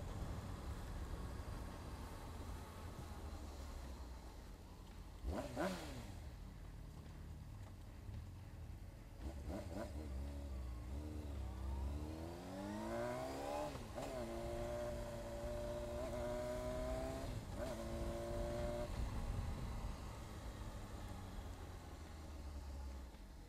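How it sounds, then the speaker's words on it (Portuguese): A Honda CBR 600RR sport motorcycle idles quietly, then revs several times with rising and falling pitch sweeps during a short ride, sounding somewhat distant and faint. "Dá um rolezinho de leve aqui, testando a moto."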